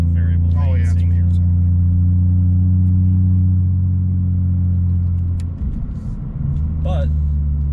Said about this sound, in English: torquey motor. It spools quickly. Turbo spools very quickly.